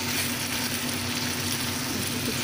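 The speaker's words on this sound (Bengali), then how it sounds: "আলু শাপলা সব ভেজে দিচ্ছি।" Potatoes and water lily stems sizzling in hot oil in a pan, a steady close hiss of frying with no break.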